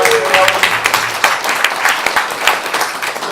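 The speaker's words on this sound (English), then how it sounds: "please give us a fast round of applause." Audience at a Q&A panel with voice actors gives a quick round of applause, dense steady clapping from many hands filling the clip at close range.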